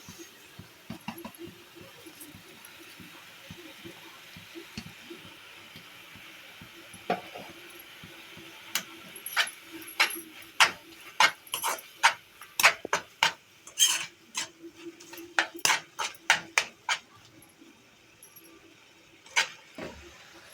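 A spoon stirs boiled milk and sugar in a metal pot, scraping and clinking at an irregular pace that grows busier and louder partway through, close and alone with no talk.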